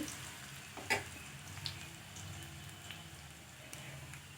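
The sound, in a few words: stir-frying ginger and garlic in oil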